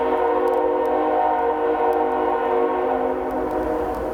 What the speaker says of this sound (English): Train's here.